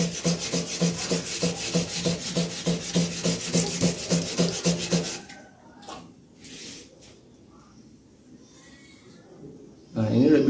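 A slaughtering machete (golok) being sharpened against a ceramic bowl, with a rapid rhythmic rasping stroke for about five seconds, close and loud, then quiet scraping and handling before a brief louder rub at the end.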